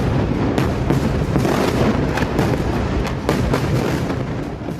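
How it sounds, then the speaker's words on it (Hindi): Missile strikes in Gaza produce a dense, continuous barrage of booming blasts and cracks, one after another, loud and rumbling with no pause or voices. "उस वक्त एक के बाद एक धमाके की आवाज और आसमान में उठते आग के शोले देखे गए थे।"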